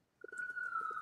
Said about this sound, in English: There goes more sirens